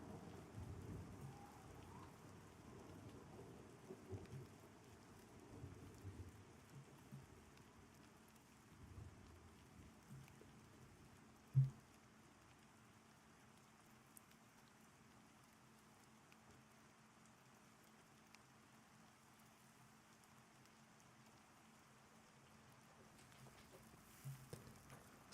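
Soft steady rainfall in the fantasy MMO Pantheon, a faint hiss with a low rumble of distant thunder and one sharp thump midway, no talking.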